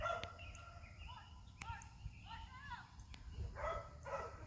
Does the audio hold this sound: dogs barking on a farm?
yes